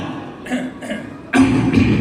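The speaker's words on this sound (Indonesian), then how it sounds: "kemudian berdehem 3 kali." Several short throat-clearing sounds, close and fairly loud, ending in a harsher, stronger clearing.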